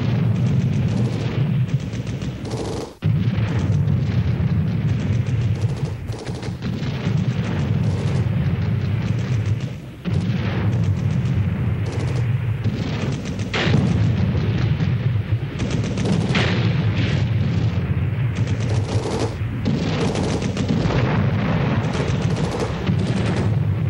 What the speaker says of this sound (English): The North Vietnamese artillery was soon to strike hard